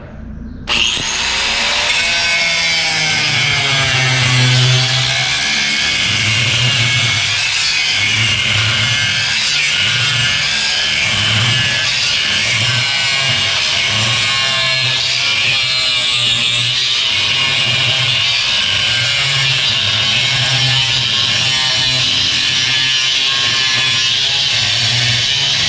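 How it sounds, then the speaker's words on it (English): An angle grinder fitted with a cutoff wheel slices through metal in one long, loud, steady whine, with a low pulsing hum from the motor beneath it and no talking. "especially when you are using a cutoff wheel, you don't want to force it."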